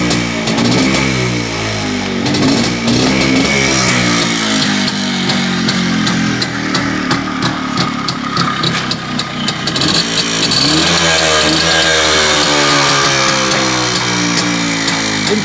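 A 1978 MZ TS 150 two-stroke motorcycle engine runs close by, a loud, steady buzzing idle with a rhythmic pulse and small shifts in revs, with no talk over it.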